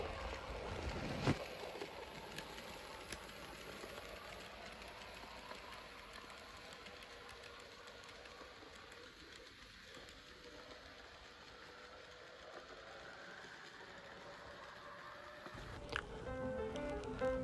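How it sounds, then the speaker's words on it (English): An N gauge model 9700 pannier tank locomotive hauls a train of empty passenger coaches past on a model railway layout, a faint, steady mechanical whirr and clatter that runs throughout and ends with a brief louder rattle. "This 9700 pannier passes through with a train of empty passenger stock."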